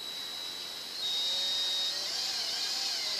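A power drill drives a screw slowly into wood while building a homemade terrarium, its steady whine rising in pitch and loudness after a second, then holding close with no voices.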